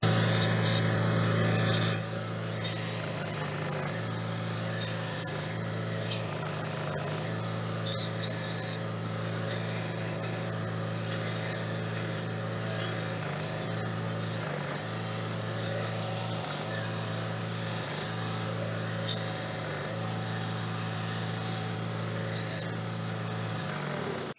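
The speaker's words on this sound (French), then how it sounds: "Une petite finition vraiment, la Dremel, ou si vous avez une lime très fine, pour vraiment enlever toutes les bavures" A Dremel rotary tool sanding and finishing a wooden cheek rest, giving a steady high motor whine with slight dips in pitch as it bears on the wood, running continuously up close.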